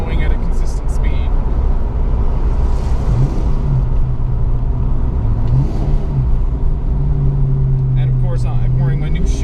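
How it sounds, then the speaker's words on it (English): A car engine drones steadily while driving, with the pitch climbing into a high rev as the driver heel-toes; close and continuous, with a voice talking over it. "I'm wearing my new shoes and I'm heel toeing and I'm revving it quite high accidentally"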